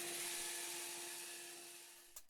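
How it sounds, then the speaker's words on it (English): A hobby bandsaw with a 16-teeth-per-inch blade cuts through aluminium, giving a steady high whine over a broad hiss that slowly fades, then ends with a couple of short knocks. "I can just cut it out on the bandsaw"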